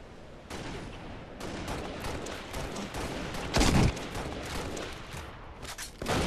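In a Halo match, a grenade goes off as one sharp, heavier blast midway through a run of rattling gunfire bursts, all fairly faint and distant.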